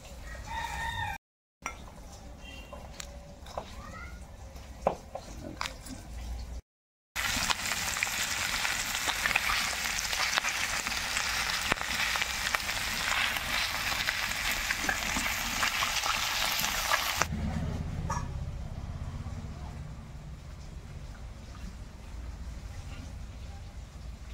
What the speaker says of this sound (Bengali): মাছ ভাজা হয়ে গেছে, এখন মাছ ভাজা তেলে ফোড়ন দেবো